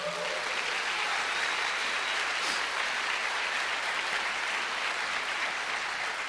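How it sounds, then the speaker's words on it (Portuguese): A church congregation applauds to praise the Lord during a sermon, a steady, even wash of many hands clapping that continues unbroken at moderate loudness. "Pode aplaudir ao Senhor."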